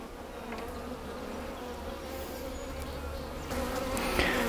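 Honey bees buzz around an open hive with frames of emerging brood, making a soft continuous drone with a few individual bees flying close past, with no voices.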